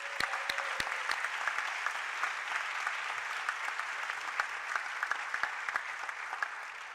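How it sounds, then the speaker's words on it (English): A theater audience at an anniversary gala for AIDS Healthcare Foundation breaks into steady, sustained applause, dense clapping filling the room from start to finish with a few sharper nearby claps standing out. "So give yourself a big round of applause."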